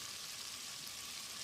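Chopped potato, carrot and other vegetables sautéing in oil in a pan with onions, a steady soft hiss of sizzling throughout, close and quiet with no voices.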